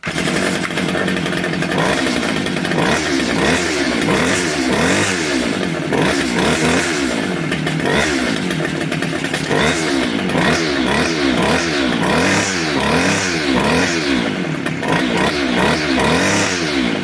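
A Homelite string trimmer's small two-stroke engine runs loud and steady throughout, a rough buzzing drone with repeated rising-and-falling surges as the idle is raised during carburetor work; no one talks.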